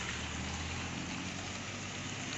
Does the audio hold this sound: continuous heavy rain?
yes